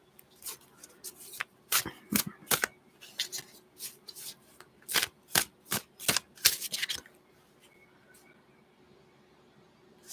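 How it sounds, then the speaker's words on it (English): Oracle and tarot cards are shuffled in quick, crisp riffling bursts over several seconds, close and quiet, then the sound tapers off into near silence. "let's see. I'll shuffle a bit."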